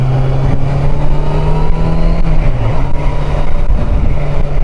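A motorcycle engine runs steadily and loudly after a ride to the dealer for its first service. A low droning tone holds throughout with a brief dip in pitch, and no one speaks.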